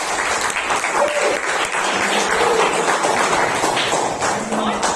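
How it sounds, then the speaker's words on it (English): Audience at a Toastmasters meeting in Bangalore applauds, a dense sustained crowd clapping filling the whole moment at steady loudness, with faint voices mixed in. "she deserves a brilliant round of applause"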